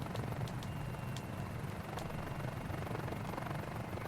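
A helicopter gaining airspeed makes a continuous thrumming rotor drone with a steady low pulse and broad engine whine, loud and unbroken, with no talk.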